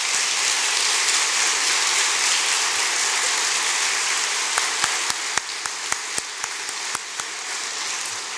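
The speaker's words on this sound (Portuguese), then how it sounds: "Damos uma salva de palmas para ela?" Applause from a church assembly for a 101-year-old woman, Dona Wanda: a steady wash of many hands clapping, with a few sharper louder claps popping out toward the end.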